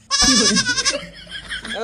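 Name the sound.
goat bleating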